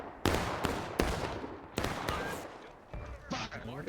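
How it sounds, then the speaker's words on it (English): Repeated ragged musket volleys crackle through a Civil War battle game, several broad bursts a second or so apart with smaller scattered shots between, fairly close and loud over a continuous battle din. "Keep shooting, boys. 3 men dropped on that volley."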